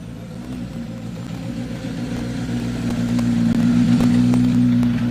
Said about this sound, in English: Another car clears the stage